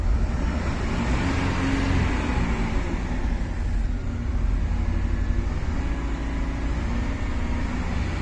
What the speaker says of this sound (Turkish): Aracımız gayet iyi bir gazlıyor.